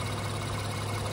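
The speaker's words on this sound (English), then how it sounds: "So the engine's still running because I'm still cycling" A 2017 Honda Ridgeline's engine idles during coolant flushing, a steady close low hum with a strong even drone that holds unchanged throughout.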